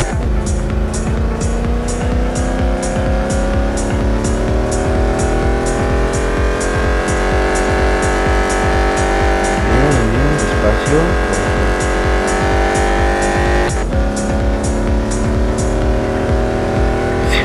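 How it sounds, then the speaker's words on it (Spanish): A race car engine in Real Racing 3 roars steadily and loudly throughout, its pitch climbing through gear changes with a brief shift dip near the end, alone with no talk over it. "una chulada de cómo suena el motor"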